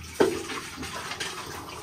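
Water gushes into a bucket from a pump in a village setting, a steady close splashing rush that starts with a sharp splash and carries on evenly throughout.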